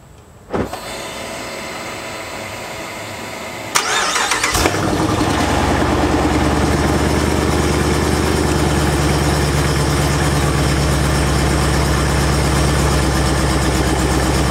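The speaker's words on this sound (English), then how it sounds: "let's go ahead and turn on the car and see what it does" A car engine cranks and catches, then settles into a steady, loud idle that drones on without a break.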